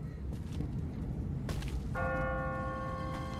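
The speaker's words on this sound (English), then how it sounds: "No one's ringing that bell. It's automatic. On a timer." A church bell in The Walking Dead video game, ringing automatically on a timer, sounds a few resonant strikes over a low ambient rumble, its ringing tones sustaining and fading at a moderate distance.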